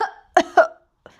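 A few short, close coughs come in quick succession, two sharp bursts followed by a fainter one, probably a voice actor imitating a cough.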